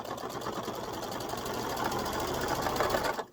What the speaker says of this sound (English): I'm going to zigzag it instead of folding it under first